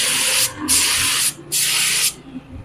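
A paint spray gun hisses in three steady bursts as it repaints the lettering and numbers on a taped-off Toyota Altis licence plate. Each burst is loud and close, separated by short pauses, with no talk.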